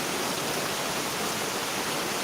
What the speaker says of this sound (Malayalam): ഇവിടെ ഇന്നലെ രാത്രി മുതൽ ഭയങ്കര മഴയാട്ടം ഇവിടെ നല്ല സൂപ്പർ മഴ